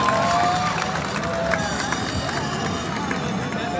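An audience at a college's annual sports event applauds as the principal is welcomed, a continuous broad rush of clapping and crowd murmur holding at an even level throughout.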